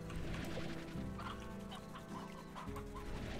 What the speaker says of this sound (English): Chickens, I hear you clucking, but, like, where are you?